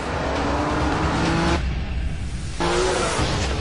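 A handcrafted Aston Martin V8 Vantage Sportshift sports car, 380 horsepower V8, roars loudly up close, with a sharp drop in engine note midway before the strong throaty sound returns.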